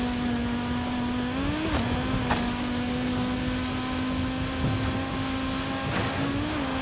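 Stock Audi Sport Quattro rally car in Forza Horizon 5 holds a steady, loud engine drone throughout, with brief pitch dips at gear shifts and no talking.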